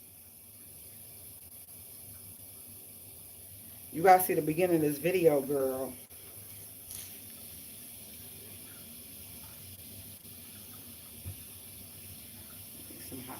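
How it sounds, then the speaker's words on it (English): Hot water runs from a bathroom tap in a steady, close hiss for the whole stretch, with someone talking briefly over it. "Let's get some hot water going."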